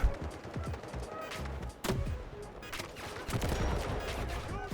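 Anti-tank weapon fired in the mobile shooter Delta Force Mobile, heavy booming blasts and rattling gunfire in quick succession, loud and close, with a voice briefly audible in the mix.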